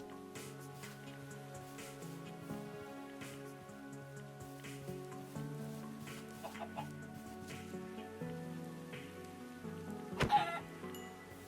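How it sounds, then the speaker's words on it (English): Chickens cluck in the Minecraft video game, repeated soft clucks and calls over steady rain on surfaces, with a louder burst near the end. "Chickens are everywhere in this biome."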